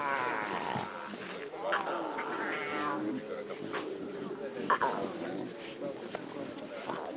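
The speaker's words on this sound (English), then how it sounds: "It's amazing how much they sound like adults when they growl." Young lion cubs give rough growls and yowling cries near the microphone, over steady outdoor background noise.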